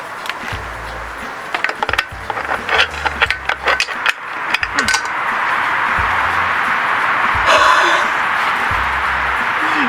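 A socket wrench ratchets in short, uneven clicking bursts on a bolt of a 1969 Johnson Seahorse outboard motor, close and loud, followed by a steadier scraping, whirring noise.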